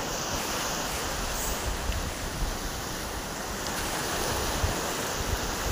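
Surf washes steadily onto an empty beach, a continuous broad roar of breaking waves mixed with gusty wind noise on the microphone, with no talking.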